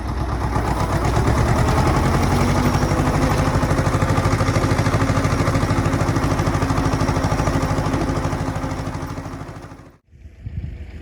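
A T-25 tractor engine pounds steadily and loudly nearby while ploughing a garden plot, its rapid even diesel knock holding for about ten seconds before abruptly dropping out and briefly catching again.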